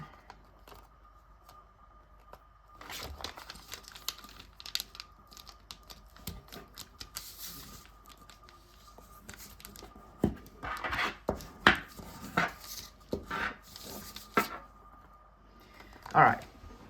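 Paper folded and handled while making an origami fighter jet, with soft crinkles, rubs and sharp creasing taps, close and intermittent, louder near the end, over a faint steady hum.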